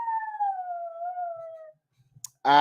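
A dog howls close by in one long, steady, slightly wavering note lasting almost two seconds. A few faint clicks follow, then a short loud burst at the end.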